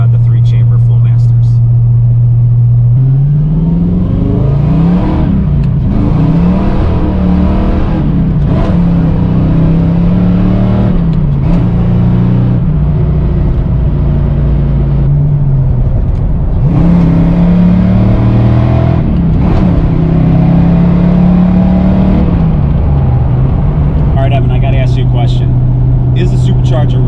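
Vortech supercharged Ford Mustang 5.0 Fox-body notchback with 2-chamber Flowmaster mufflers driving, heard from inside as a loud droning exhaust that rises and falls through several shifts and revs under continuous talk.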